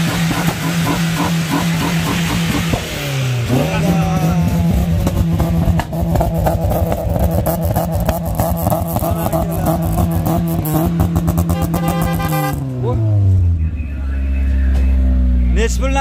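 A Lada VAZ 2113's engine revs up and down repeatedly, the loud, close tone climbing and dropping, then settles into a low idle rumble, with voices talking over it.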